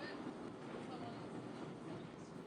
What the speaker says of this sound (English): Now we're on the Disneyland Railroad